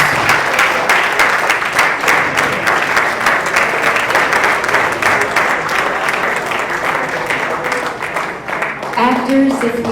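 Applause from an audience at a Shakespeare performance inside San Quentin prison: loud, dense clapping sustained for several seconds before tapering off, with voices emerging near the end.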